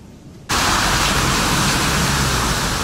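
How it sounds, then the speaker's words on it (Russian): Hail and heavy rain pour down during a powerful storm in Antalya, a loud, dense, continuous hiss and patter that bursts in abruptly after a quieter moment and then holds steady and close. "Вот это да. Это град."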